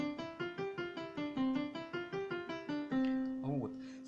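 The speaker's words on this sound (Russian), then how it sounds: "Вот, Grand Piano, пианино." Synthesizer set to its Grand Piano voice playing a quick run of about a dozen evenly spaced piano notes that decay quickly, close and clear, ending on a sustained tone.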